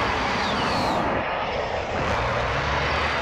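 A helicopter in the Call of Duty video game drones loud and close with a steady engine and rotor roar that shifts slightly in pitch, with no talking over it.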